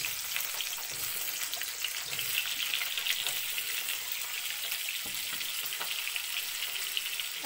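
Potato pieces frying in hot oil give a dense, steady, hissing sizzle that holds evenly throughout, with a few faint clicks and no voices.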